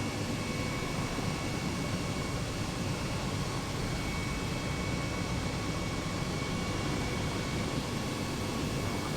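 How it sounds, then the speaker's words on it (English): A helicopter in Microsoft Flight Simulator 2020 over the Oslo scenery gives off a steady, loud, broadband engine and rotor drone that holds at an even level throughout, with no break and no voices. "keep an eye on the aircraft, on the helicopter"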